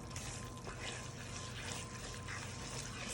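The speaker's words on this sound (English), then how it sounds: "it's time to add the water and the milk" Water poured into a pan of thick homemade breakfast gravy, a steady close liquid rush and sizzle running evenly throughout with no talk.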